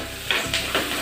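Onions, garlic and cumin frying in mustard oil with a pinch of asafoetida and salt, giving a steady close sizzle with a few scraping stirs of a spoon against the pan.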